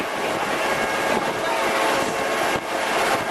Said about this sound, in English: let the cars behind us passing in front of us as we drive very slowly with the train to give you time to see everything.